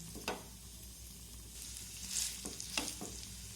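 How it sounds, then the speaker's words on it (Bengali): Noodle and egg snack sizzles in a hot pan, a steady close frying hiss with a few brief scraping bursts as the pieces are turned. "আবার আমি উল্টে পাল্টে কিছুক্ষণ ভেজে নেব"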